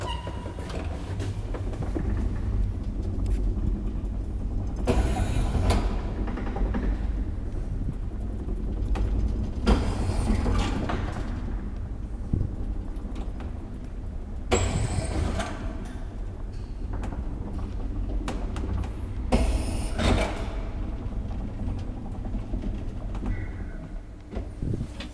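An old Graham Brothers traction elevator in Topeliuksenkatu 23 hums steadily as it runs, with several louder clunks and brake thuds spaced through the ride, heard close from inside the car.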